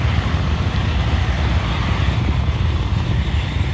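A SpaceX Falcon 9 rocket climbs during a nighttime launch of the Bandwagon-2 mission, its steady, dense roar rumbling continuously and loudly throughout with no voices over it.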